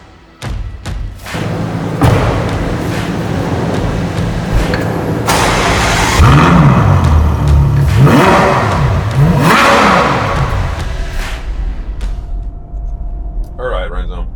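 A Ferrari GTC4 Lusso engine cranks and catches, then revs up and down in several rising and falling sweeps, loud and close, with a door thump early on and a voice talking over the engine noise.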